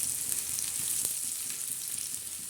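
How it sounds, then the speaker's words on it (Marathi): Whole spices and coriander seeds dry-roasting in a pan into a dark masala, a soft continuous sizzle with faint scraping stirs, quiet and close. "छान असे लालसर खमंग असा मसाला तयार करणार आहोत मस्त असं भाजणार आहोत आपण"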